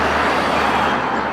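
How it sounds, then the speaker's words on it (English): Road traffic rumbles as a continuous broadband wash of passing vehicles nearby, steady and fairly loud, with no speech. "I got traffic running behind me"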